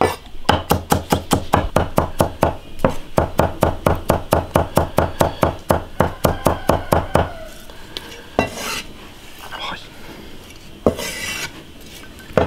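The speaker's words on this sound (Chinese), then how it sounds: "剁碎。" Garlic being minced with a knife on a wooden board, a fast run of sharp, evenly spaced chops close by for about seven seconds, then a few scattered knocks and scrapes.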